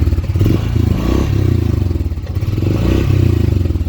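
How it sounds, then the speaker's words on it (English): Honda Pioneer 500 side-by-side engine revved up from idle, a steady loud low drone with a rhythmic pulsing throb and some mechanical clatter, running continuously with no talk. "I'll rev it up and see if it makes any more noise."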